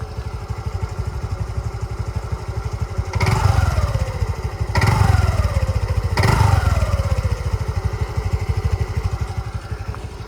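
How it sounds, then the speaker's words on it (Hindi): A TVS Jupiter scooter engine with about 25,000 km on it idles steadily and close, its exhaust putting out a low, even chug, with three brief throttle blips rising and falling midway. "इस साइड से एग्जॉस्ट की आवाज़ सुन लो आप लोग।"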